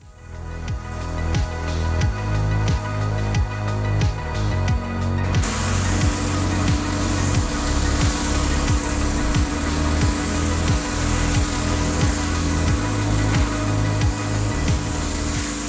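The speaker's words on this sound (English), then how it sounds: "I do need to clean them up with some deck cleaner and a pressure washer." Pressure washer spraying salvaged barnwood boards outdoors, a loud steady engine drone with a hissing water jet that turns harsher and brighter partway through, continuous and close with no talk.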